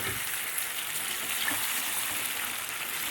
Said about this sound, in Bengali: এই মশলার মধ্যে দিয়ে দেবো, দিয়ে আবার ভালো করে কষাবো।